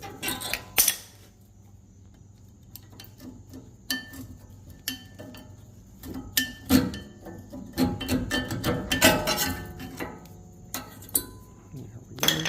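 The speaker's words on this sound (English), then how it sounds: "And then I'm just going to pop the pads out," Brake pads on a 2020 Ford F-150 being pried out of the caliper with a screwdriver, heard as a scattered series of sharp metallic clicks, taps and clinks at close range, with faint talk between them.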